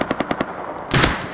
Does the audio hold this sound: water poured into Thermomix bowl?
no